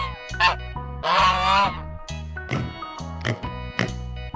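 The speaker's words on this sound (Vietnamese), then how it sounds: "con ngỗng," A goose honks in short, harsh bursts, a couple of sharp calls and one longer noisy honk, close and loud over a playful background tune.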